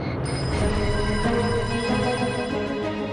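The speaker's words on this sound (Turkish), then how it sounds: "Dünya başkentlerinde telefonlar çalıyor" Telephones ringing in several world capitals, with a continuous bell-like ring that holds steady under a dense, busy background.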